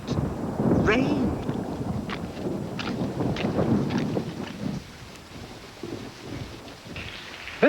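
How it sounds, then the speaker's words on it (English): Heavy rain pours down in a storm, with gusting wind buffeting the microphone and rumbling thunder rolling through; the downpour is loudest at first, then eases slightly while thunder keeps grumbling. "Rain."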